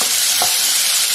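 Chopped shallots fry in hot oil in a pan for a garlic mutton curry, a steady close sizzle with a soft stir scraping through the middle of the short burst.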